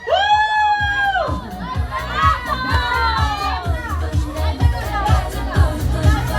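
A crowd of children shouting and screaming together at an indoor group game, loud and close, with high-pitched cheers breaking into overlapping yelling and rhythmic thumps.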